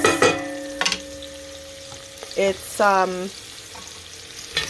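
Onion frying in a pot on medium-high heat, a soft, continuous sizzle with a few utensil clinks and scrapes, while a voice speaks briefly in between.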